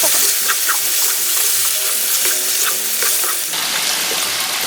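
Fresh squid stir-fried in a hot pan, a loud, steady sizzle with scraping stir noises, close and continuous with no talk.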